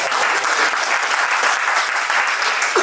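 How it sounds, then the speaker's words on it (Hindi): Audience applause at a school alumni gathering, a loud, dense and continuous roar of many hands clapping together throughout. "इनके लिए एक ताली हो जाए"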